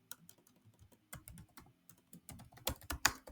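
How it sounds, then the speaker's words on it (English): Fingers type on a computer keyboard in irregular bursts of close, crisp key clicks, growing a little louder toward the end. "let's click in here and let's type this journal"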